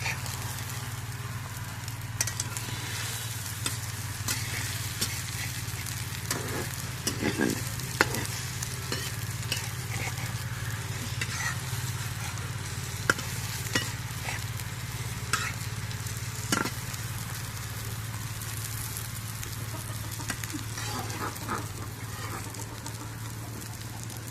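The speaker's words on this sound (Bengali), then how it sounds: "এখন ডিমটা ভাজা হয়ে গেছে" An egg fries in a pan with a continuous close sizzle and a low steady hum underneath, dotted with faint crackles and occasional soft scrapes of a spatula.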